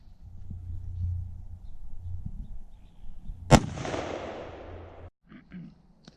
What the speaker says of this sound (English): So I'm gonna try and shoot one dead center, give it a little bit better shot, and see if we can make it through more boards.